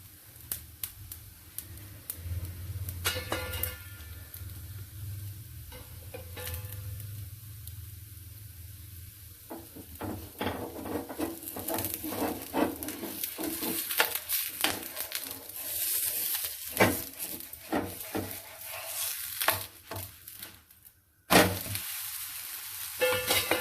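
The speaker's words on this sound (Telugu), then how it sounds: "ఆయిల్ వేసి తిప్పుకున్నాం మనం దోశనైతే" Pesarattu dosa sizzling in oil on a hot pan, a steady frying hiss with scattered crackles and a few sharp pops, growing busier and brighter toward the end, close and alone without talk.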